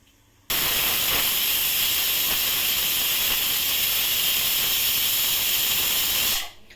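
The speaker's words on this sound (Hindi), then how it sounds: "कुल 5 विसिल हो चुके हैं, गैस को मैं ऑफ कर रही हूँ।" A pressure cooker whistles steadily on a gas stove while pav bhaji vegetables cook, releasing a loud, continuous, close hiss of steam for about six seconds before it cuts off.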